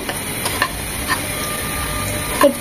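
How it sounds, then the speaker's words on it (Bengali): Dried red chillies crackle and sizzle in hot ghee as a tempering for chicken kala bhuna, a close steady frying hiss with a few light sharp pops and faint stirring clicks, no talk. "বাগারের জন্য দিয়ে দিচ্ছি শুকনো মরিচ।"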